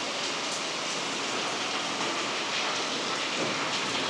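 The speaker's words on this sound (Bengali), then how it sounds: "যেভাবে মুষলধারে বৃষ্টি হচ্ছে মনে হচ্ছে যেন বর্ষাকাল" Steady, dense pre-monsoon thunderstorm rainfall pours down in a continuous heavy hiss, loud and unbroken throughout, with no voices.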